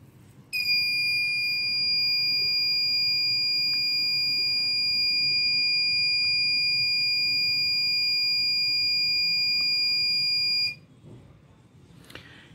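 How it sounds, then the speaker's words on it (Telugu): Motion sensor light circuit buzzer sounding when triggered: a loud, steady high-pitched electronic tone that holds continuously for about ten seconds and then cuts off abruptly, leaving faint room noise. "ఇప్పుడు దీనికి బజర్ పెట్టాను"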